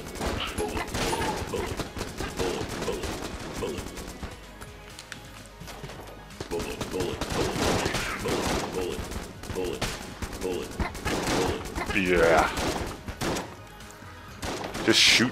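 Gunfire from a weak novelty gun in Enter the Gungeon, a rapid stream of small shots running through the whole stretch under busy game effects and music.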